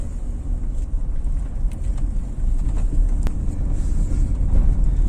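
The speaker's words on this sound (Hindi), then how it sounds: "अभी फर्स्ट गियर की आवाज फिर थोड़ी सी हाई हुई तो फिर मैंने उसको सेकंड गियर के अंदर शिफ्ट कर दिया" A manual car in Pakistan drives in second gear at just over 20, its engine giving a steady close rumble under road and cabin noise that swells slightly partway through.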